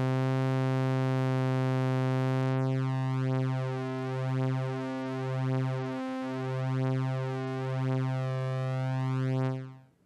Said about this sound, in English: Let's also increase the warble width. That'll create a nice and long chorus effect.